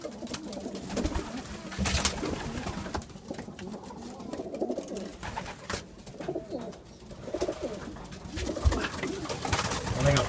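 Racing pigeons coo in a loft, soft overlapping throaty calls continuing throughout with shuffling and fluttering, close by, alongside some faint human voice.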